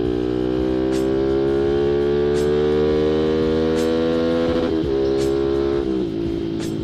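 A Yamaha Mexy motorcycle, its engine swapped from 200cc down to a stock 150cc, revs and holds against its 10,000 rpm limiter, a loud, close buzzing drone pulsing at the cutoff with brief crackles near the end.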